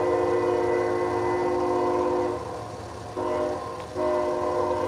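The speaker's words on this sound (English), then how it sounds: "Wow, that SD40-2 has a Gevo horn." An SD40-2 diesel locomotive of Norfolk Southern sounds a loud, sustained multi-chime horn close by, with one brief dip and restart partway through, over a steady engine rumble.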